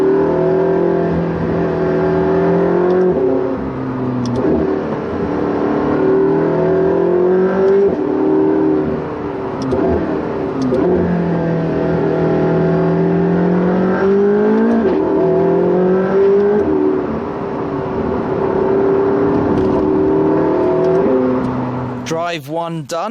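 McLaren 675LT engine pulling hard under sustained acceleration, loud and close, with repeated rising revs and gear changes over about twenty seconds, ending in a brief sharp burst.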